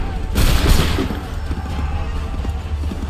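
Musket volley fired by a line of soldiers in Assassin's Creed III: one loud, crackling burst of many shots near the start that rolls off into a fading rumble over steady background din.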